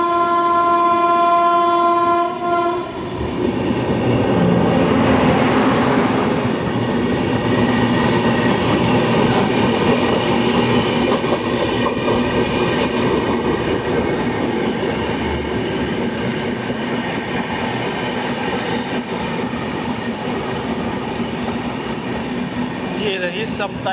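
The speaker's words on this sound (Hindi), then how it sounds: "ये रही समता एक्सप्रेस।" The Samta Express at Dongargarh station sounds its horn in long tones, then passes close with a loud continuous rumble and clatter of wheels on rail.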